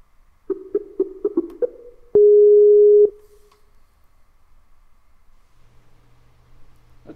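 A Skype call-connecting tone: a quick run of short beeps, then one long steady tone, followed by a faint low hum.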